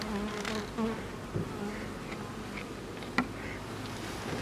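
Honey bees buzz steadily inside an open hive, a close, continuous drone with a few sharper wingbeat passes and faint clicks.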